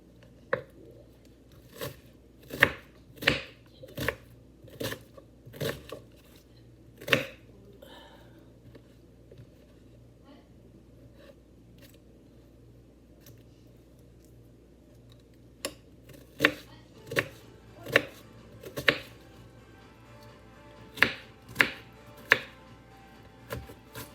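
A knife chops onion on a cutting board in two bursts of sharp, close knocks. An uneven run of strokes comes first, then a quiet pause, then a second quicker series. The room is otherwise calm and no one speaks.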